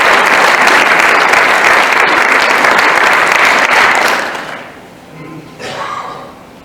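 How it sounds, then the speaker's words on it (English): Audience applause at a high school hall of honor induction ceremony: loud, dense clapping from a crowd for about four seconds with a few sharp claps standing out, then it fades and a brief smaller burst of clapping follows. "Please give a round of applause for Dr. Melvin."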